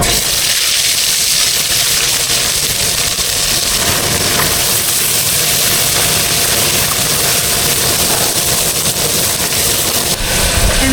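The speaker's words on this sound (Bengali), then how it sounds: "এবার এই তেলের ভিতরে আমি মাছগুলোকে দিয়ে দেবো একে একে।" Tilapia fish sizzling in hot oil in a pan, a loud continuous hiss and crackle that stays steady from start to finish with no pauses.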